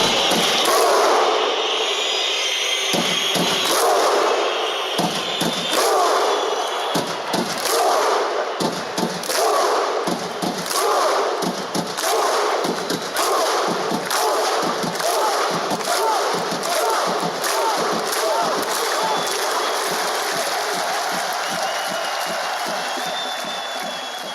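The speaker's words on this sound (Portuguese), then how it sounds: "esse ritual viking de palmas que eles introduziram na Eurocopa" Football fans perform the Viking thunderclap chant at the Euro: a large crowd claps in unison, with loud rhythmic claps that steadily speed up over sustained crowd roar.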